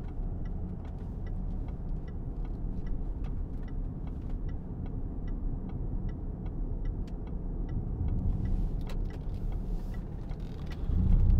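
A 2016 Range Rover 3.0 TD V6 Vogue automatic rolls round a roundabout with a soft low cabin rumble, an indicator ticking steadily and evenly, and the engine swelling slightly near the end.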